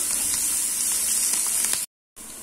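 Onions sauté in a pan with chilli, ginger and curry leaves for a potato bonda filling, making a loud, continuous close-up sizzle that cuts out briefly near the end before resuming.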